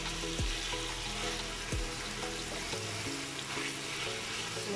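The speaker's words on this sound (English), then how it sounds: "you can see the onions is caramelizing nicely" Onions caramelizing in a pan for masala lamb give a steady, close sizzle, with a couple of soft thuds and faint tonal background sounds underneath.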